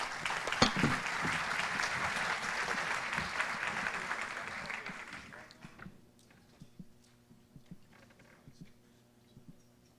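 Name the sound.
audience applause for the minister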